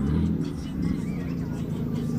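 Toyota Mark IV Supra rolling into a busy car meet in Japan, a steady low engine rumble close by with crowd chatter and voices throughout.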